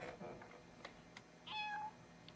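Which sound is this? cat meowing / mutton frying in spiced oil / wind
cat meowing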